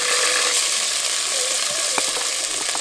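Tomatoes fry in oil in a pan, a loud, steady hiss of sizzling with a few faint clicks of stirring, nothing else heard.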